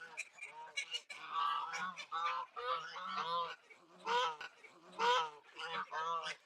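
Geese on a homestead honk loudly in repeated bursts, several calls overlapping into a noisy, irregular chorus.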